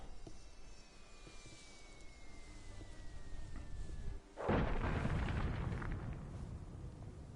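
A catapult in the video game Immortals Fenyx Rising launches a giant spear, bursting out as a loud boom about midway and then rumbling on, with a thin descending whistle and game ambience beforehand.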